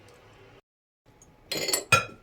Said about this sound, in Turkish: Öyle çırpacağım